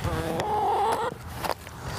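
A backyard chicken in a garden gives a short run of clucks, fairly close and clear, fading out after about a second with no voices.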